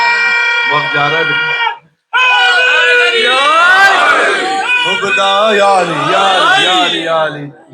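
An audience at a religious celebration in a London centre stands and chants slogans, loud massed voices rising together in a sustained roaring wave after a brief pause, with one voice leading over the crowd.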